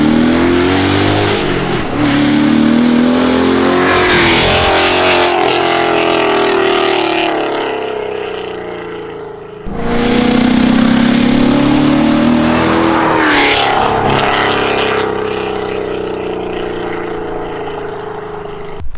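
A 500 hp Ford Mustang GT with a custom-built exhaust roars past twice, each pass a loud rising rev that swells near and trails off, the second fading more slowly.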